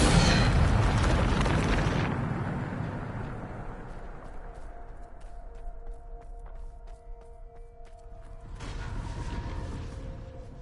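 A Depulso force spell cast in Hogwarts Legacy bursts out as a loud, rushing blast that fades into low mechanical creaks, then a second surging burst swells near the end.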